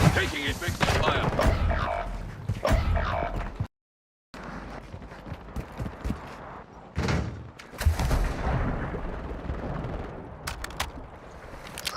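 Video game gunfire rattles in dense, loud bursts with booming low thuds and a brief dropout, while voices talk over the battle.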